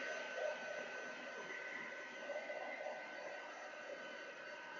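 A heat tool blows steadily over a card to dry embossing powder, giving a constant, even whooshing hiss of air that holds at the same level throughout with no speech.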